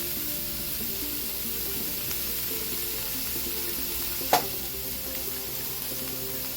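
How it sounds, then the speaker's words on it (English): Ground beef for chili sizzles and crackles steadily in a hot pot, a constant frying hiss with one brief clink partway through. "as the pot gets very nice and hot, we're gonna add in the ground beef"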